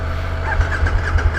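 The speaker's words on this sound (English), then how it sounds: "Engine." A Suzuki motorcycle engine starts up close and loud, a low throbbing rumble with uneven pulsing beats as it settles, and no talking.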